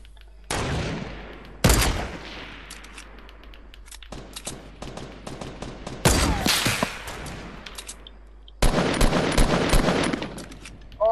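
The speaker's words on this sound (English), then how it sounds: "I'm actually trying to snipe these guys." Sniper rifle gunfire in Fortnite Battle Royale, several loud sharp cracks spaced seconds apart, each followed by a ringing tail, with no talk over them.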